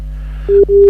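A telephone busy signal sounds after a dropped call during a live broadcast, as two loud, steady electronic tone pulses separated by a short gap over a low background hum.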